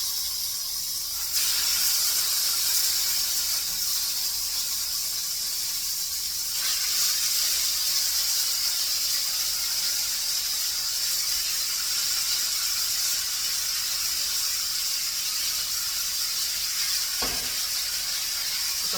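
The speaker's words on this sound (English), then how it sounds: "I'm gonna start putting my steak in there" Steak hits a hot pan with fresh herbs and sizzles in a loud, steady hiss that surges sharply at about 1.5 seconds and again at about 7 seconds, then holds constant with no talking.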